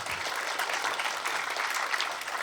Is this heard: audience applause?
yes